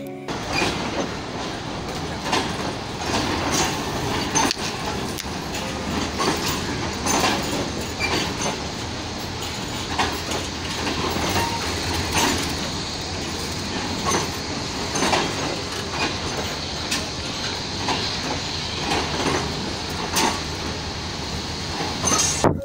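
The Hazara Express, a Pakistan Railways train of economy coaches, rolls along the rails with a continuous rumble, rhythmic wheel clatter and metallic clinks, heard close and without speech throughout.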